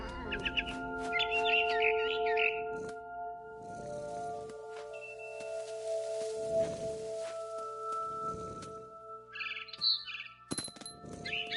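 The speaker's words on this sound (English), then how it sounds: "Then I heard chirping outside my window. It was a barn swallow going back to her nest." A barn swallow in the video game Ghost of Tsushima gives clusters of short, high chirps and tweets against a quiet background, with a steady tonal game ambience underneath.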